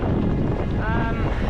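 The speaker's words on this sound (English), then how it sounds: "in 70 knots of wind" Strong storm wind from Storm Eunice, force 12 at around 70 knots, roars and buffets a microphone out on a harbour, a loud continuous rumble with a voice partly heard beneath it.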